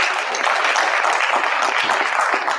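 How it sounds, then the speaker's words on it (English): Audience applause at a Junior National Honor Society induction ceremony, a loud, dense, even clapping from a large crowd filling the whole moment. "A round of applause, please."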